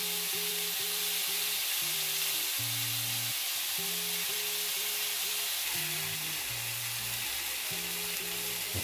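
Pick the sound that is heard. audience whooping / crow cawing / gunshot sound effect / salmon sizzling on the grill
salmon sizzling on the grill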